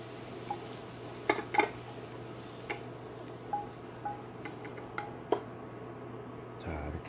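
Carrot strips being lightly stir-fried in a pan for janchi-guksu noodle soup, with scattered soft scrapes and clinks of a utensil against the pan over a faint low hum, no talking.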